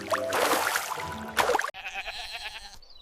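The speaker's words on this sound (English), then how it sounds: "G is for goat." A goat bleats in a rough, wavering call over the first half, then a second strained bleat follows amid a busy musical backing in a children's alphabet song.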